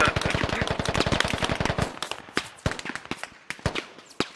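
Rapid automatic gunfire in the military shooter game Squad, a dense stream of loud shots that thins into scattered bursts and single cracks, with no talking.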